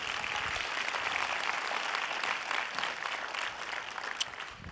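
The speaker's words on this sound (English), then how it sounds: "Let's give God a great clap this morning." A church congregation claps during a morning service, a fairly faint but continuous crackle of many hands heard from some distance, steady and without speech.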